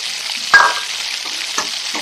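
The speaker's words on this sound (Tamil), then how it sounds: "இப்போ நம்ம தக்காளி பழம் போடுறோம்" Tomatoes go into a hot pan for hotel-style chapati kurma, bringing an even sizzle of frying with one sharp utensil clank near the start and a couple of softer taps later.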